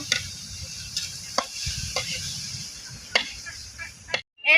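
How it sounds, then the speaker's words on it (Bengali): Thankuni (Asiatic pennywort) leaves frying in oil in a pan, with a bright hiss of sizzling and several sharp spatula scrapes and taps from stirring. "থামকানি পাতা কিন্তু ভাজা হয়ে গেছে আর তেল ছেড়ে দিচ্ছে"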